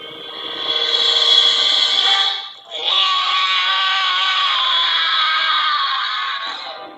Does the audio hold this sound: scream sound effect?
yes